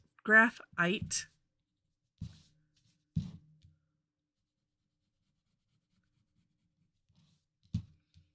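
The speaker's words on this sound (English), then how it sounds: "I'm just going to put some graphite" A graphite pencil shades on paper during a Zentangle drawing: a few short, dry scratching strokes separated by silence, following brief talking at the start.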